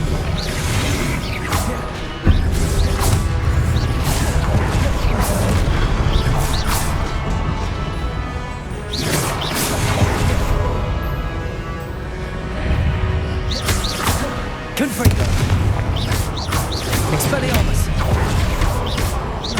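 Confringo blasting spells in Hogwarts Legacy burst in a dense battle, several loud crashing blasts and whooshes layered over constant low rumble and clashing effects, with spell-casting voices heard at times.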